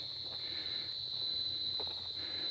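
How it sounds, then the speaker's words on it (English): Steady, high-pitched buzzing of cicadas on a hiking trail in the Balashi and Spanish Lagoon area fills the air continuously, an even droning chorus with no talking. "There we hear the cicadas."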